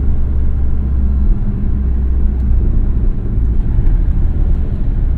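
A 2017 Porsche 718 Boxster S with PDK gearbox and MTM tuning accelerates on a city street, a loud, steady low engine rumble heard from inside the car without pause.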